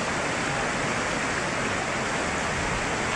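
A flooded river in Negros Oriental, Philippines, rushes with a dense, steady roar of water that stays loud and unbroken throughout.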